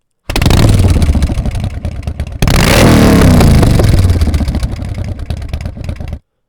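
Recorded motorcycle engine played back as a sound file, loud and close, a rough revving roar with clattering texture that drops, then surges in a fresh rev and holds before cutting off abruptly.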